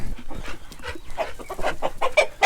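Several chickens clucking nearby in short, irregular bursts, fairly loud and close, with no one talking.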